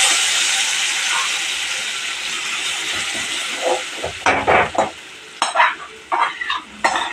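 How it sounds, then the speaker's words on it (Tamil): Ground paste goes into hot oil with crackling cumin, giving a loud steady sizzle that breaks into bursts of spitting and stirring as more paste is added. "இந்த ஜீரகம் வெடிச்சதுக்கப்புறம் இந்த அரைச்சி வச்ச விழுதை கொஞ்சம் கொஞ்சமாக அதில் சேர்த்துக்கணும்"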